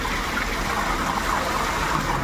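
Water gushing steadily from a pump, a continuous close rushing flow with no break, no voices.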